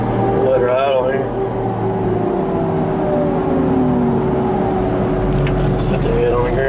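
Heavy equipment engine idling at a steady low rumble, held close and constant, with people talking over it throughout.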